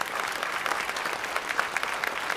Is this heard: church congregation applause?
yes